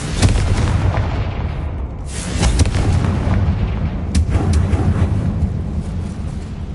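Confringo blasting curse explosions in the wizarding video game Hogwarts Legacy, a series of loud booming blasts with deep rumbling tails, several sharp hits spaced a second or two apart.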